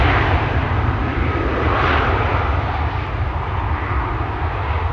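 Aircraft engines roar steadily at Schiphol Airport as a jet is pushed back. The broad, continuous rumble fills the whole stretch at a constant loud level, with no talk over it.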